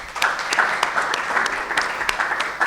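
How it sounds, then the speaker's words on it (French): Audience applause closing a film festival conference, a steady wash of clapping from a seated crowd, moderate in volume and heard alone. "Je vous propose d'applaudir Nizar Saleh."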